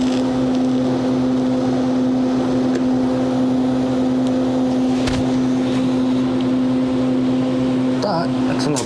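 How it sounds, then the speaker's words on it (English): A Garelli SSXL moped engine fitted with a fake VM18 carburetor intake idles close by with a steady, buzzing drone. It holds an even pitch throughout, then briefly shifts at the very end. "That's a moped."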